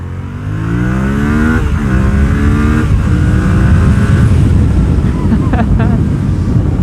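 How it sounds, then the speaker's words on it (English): A Yamaha FZ-07 motorcycle engine revs hard on the throttle, its pitch climbing in quick rising sweeps, then settling into a loud, steady drone with some wind noise on the microphone. "It does little wheelies when you get on the throttle."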